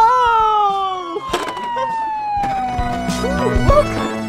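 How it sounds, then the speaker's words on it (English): A police car siren wails in a loud, sliding tone that rises and falls steadily, with brief clatters and other noises over it. "This is a police car!"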